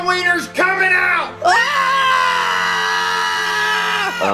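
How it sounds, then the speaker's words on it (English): Airplane passengers screaming during a crash, loud sustained overlapping wails and shrieks that rise and fall, cut briefly once and then held in a long continuous cry. "I know you're screaming for your lives"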